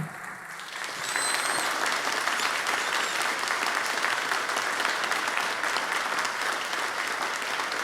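An audience applauds steadily after a lecture at a specialty coffee quality event, the clapping rising quickly and staying full and even to the end.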